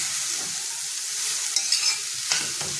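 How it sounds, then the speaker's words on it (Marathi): Jackfruit bhaji sautéing in a pan, a steady soft sizzle with light stirring scrapes and a few clinks, close and alone. "आणि आता परतून घेऊया."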